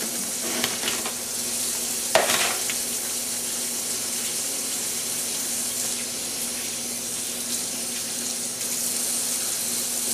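Cool water from a kitchen tap pours steadily over raw pork ribs in a sink, a close, constant hiss broken by a couple of brief splashes and knocks as the meat is moved.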